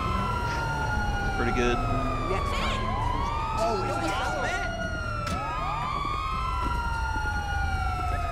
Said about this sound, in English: There are two ambulances on the scene.